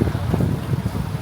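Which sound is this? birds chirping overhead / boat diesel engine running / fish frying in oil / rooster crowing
boat diesel engine running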